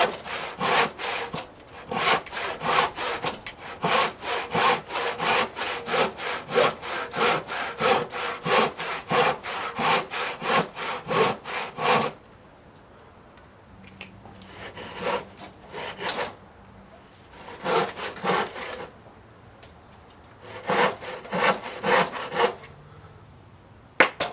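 Hand sawing through wood for a Roman bench gives a fast, even back-and-forth rasp up close, then it stops and restarts in shorter bursts with quiet gaps between them.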